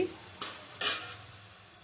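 Chakralu, spiral rice-flour snacks, being turned over in a frying pan: two short, bright scraping clinks against the pan, the second louder, over a faint low background with no voices.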